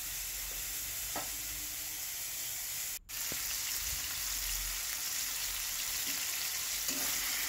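Onion and tomato fry in hot oil, a steady, dense sizzle that runs throughout, with a brief dip partway and a few soft stirring knocks.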